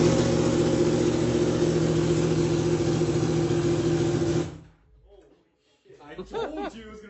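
A straight-piped Yamaha R1 motorcycle engine, without its muffler, drones loud and steady for several seconds, then cuts off, followed by someone talking and laughing.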